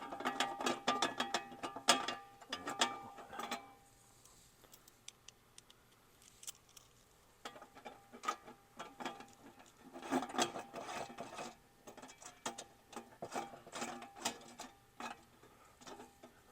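Button-head bolts with flat and lock washers threaded by hand into the front wheel-well liner of a 5th Gen Toyota 4Runner during an oversized tire fitment install, heard as close, rasping, scraping bursts and small taps separated by brief quiet pauses.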